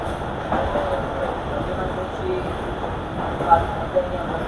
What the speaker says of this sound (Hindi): तो ये कराची सर्कुलर रेलवे तर्ज की बोगी है और नई बोगी है।